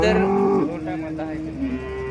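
A cow moos loudly and close by at a cattle market, one long drawn-out low call that bends in pitch partway through, with faint crowd noise behind it.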